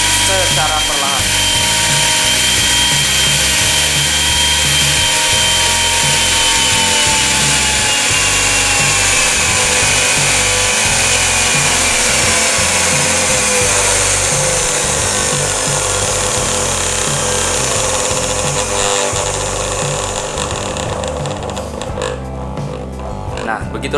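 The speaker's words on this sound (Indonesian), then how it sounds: "yang terjadi jika menggunakan alat dimmer ini untuk blender" A kitchen blender's motor runs through a dimmer switch at reduced speed, giving a steady, loud electric whine and rattling buzz whose pitch slowly sinks over about twenty seconds, with a person talking over it.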